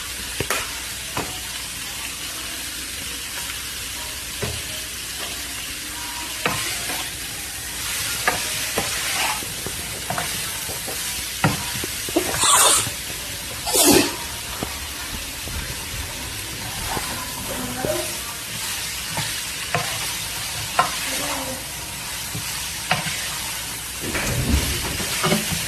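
Vegetables with red chili flakes stir-frying in a hot pan: a steady loud sizzle broken by scraping stir strokes and sharper crackles, with no voices.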